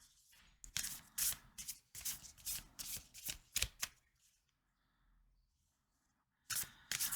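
Tarot cards being shuffled by hand, close-up riffles and rapid flicking bursts in several runs, with a quiet pause before one more burst at the end.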